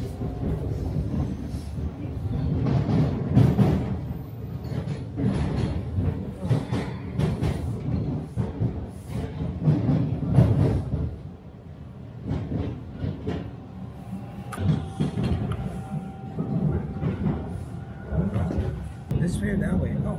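Steady rumble and rattle of a Toronto subway train riding along the rails near Royal York Station, with people talking intermittently over the noise.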